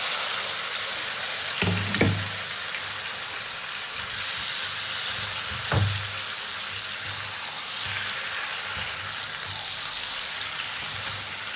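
Marinated chicken pieces frying in spiced oil in a pan, a steady close sizzle and crackle with a couple of brief louder bursts as the meat settles, no talk.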